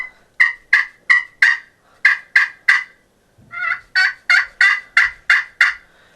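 A crystal turkey call sounds in two loud series of sharp, rapid clucks and yelps, close and evenly rhythmic, with a short pause between them.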